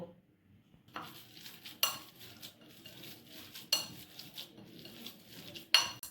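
Chhana being mixed with salt and ghee in a bowl, several sharp clinks of a utensil against the bowl over soft, close scraping and stirring, with quiet gaps between strokes.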